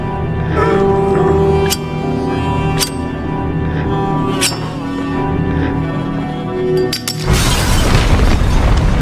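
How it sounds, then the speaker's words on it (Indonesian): A building explodes after a lighter flame ignites in The Last of Us Part II, with a loud, dense rumbling roar and sharp metallic clinks and debris crashes, swelling into a heavy full-band blast of burning collapse near the end. "Ketika api menyala dan gedung meledak"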